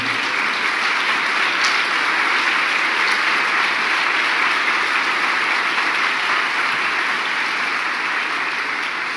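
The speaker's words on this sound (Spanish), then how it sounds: "Dale el aplauso fuerte al Señor." Sustained, loud applause from a congregation at an annual church conference, an even wash of clapping throughout with no speech on top.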